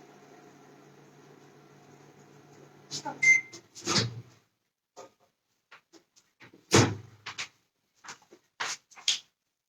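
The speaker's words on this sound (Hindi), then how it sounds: "10 सेकेंड के लिए हम इसको माइक्रोवेव करेंगे।" A microwave oven hums steadily while heating a colored food mixture, then stops, followed by a beep, the door opening with clicks and clatters, and more scattered kitchen knocks.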